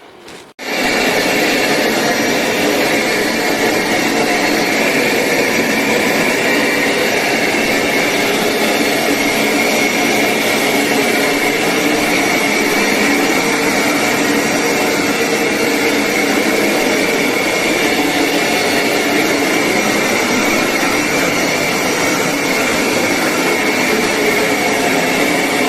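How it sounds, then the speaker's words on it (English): A Hoover PowerScrub XL Pet carpet cleaner, filled with pure water, runs steadily at close range with a loud, continuous motor whine and suction roar that holds unbroken for about 25 seconds after a brief start, with no talk. "So I bought this Hoover vac"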